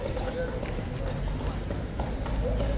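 King's Guard horse hooves clip-clopping on pavement, a steady walking rhythm heard amid a noisy crowd with people talking nearby.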